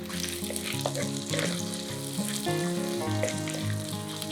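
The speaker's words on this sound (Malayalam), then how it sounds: "അതിലേക്ക് നമുക്ക് ഒരു 15 അല്ലി വെളുത്തുള്ളി, ഒരു 20 ചുവന്നുള്ളി, ഒരു 6 വത്തലമുളക് ഇത്രയും ചേർത്ത് നമുക്ക് ജസ്റ്റ് ഒന്ന് സോട്ട് ചെയ്തെടുക്കാം" Fifteen garlic cloves, twenty shallots and six dried red chillies sauté in hot oil in a pan, giving a steady, dense sizzle that stays loud and even throughout with no voices over it.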